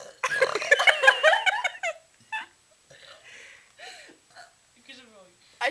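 Several loud, rough, drawn-out burps come close to the mic in a burst at the start, followed by quieter gulps and short vocal noises with some laughter.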